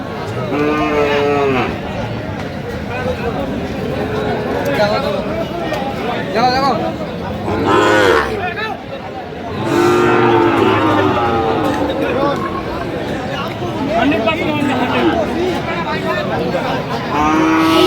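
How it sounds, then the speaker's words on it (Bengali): Sahiwal bull calves moo repeatedly at a busy cattle market, loud close lowing calls one after another over a constant crowd hubbub, with people talking throughout. "আমরা দেখছিলাম এখানে যে গরুগুলো কিনছেন"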